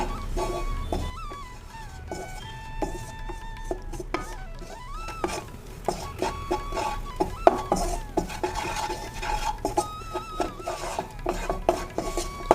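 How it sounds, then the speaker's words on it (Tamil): A utensil steadily scrapes and stirs dry wheat flour roasting over a low flame in a metal pan, with irregular scraping and light clinks throughout. "நல்லா கோதுமை மாவு இந்த இதில் வறுக்கணும் கொஞ்சம் ஸ்லோ ஃப்ளேமில் வச்சு வறுத்துக்கலாம்"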